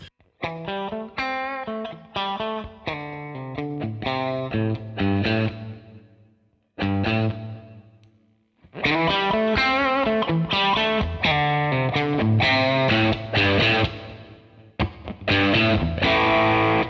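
Clean Telecaster electric guitar played straight into a Great Eastern FX Co Small Speaker Overdrive pedal, switched off, through the amp: strummed chords and picked notes with harmonic ring, a pause, then fuller, louder chord playing continuing to the end.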